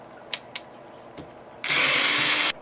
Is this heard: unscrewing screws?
yes